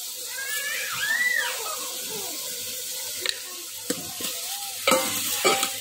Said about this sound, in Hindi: थोड़ी सी देर से भून लेते हैं 2 मिनट के लिए।